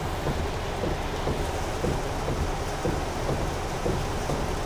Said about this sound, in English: it will amplify the rain hitting the roof